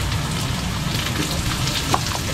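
Garlic and onion fry in a pan while cooking freshly caught fish, giving a steady, dense sizzle at close range with no talking.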